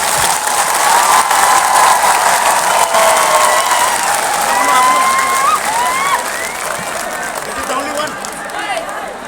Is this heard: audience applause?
yes